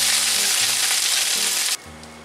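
Pork thigh meat for ginger pork is stir-fried in a pan, giving a loud, close, continuous sizzle that drops away abruptly near the end, leaving a low hum.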